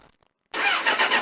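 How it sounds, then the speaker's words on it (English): A Suzuki GSX-R 600 motorcycle engine cranks and catches after a brief near-silent pause, then settles into a steady, loud, close running note with slight fluctuations. "when I start the bike up"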